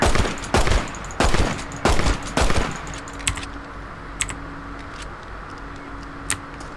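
Repeated gunshots in Red Dead Redemption on PC: about five loud, sharp shots fired one after another, followed by quieter scattered clicks and faint distant pops.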